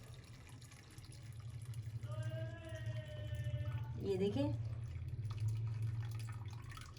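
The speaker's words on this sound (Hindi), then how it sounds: "मैंने ऊपर से सारा अजवाइन का पानी डाल लिया" Ajwain (carom seed) water is poured from above in a home kitchen, a soft splashing trickle under a steady low background hum, while someone talks over it.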